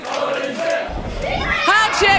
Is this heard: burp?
no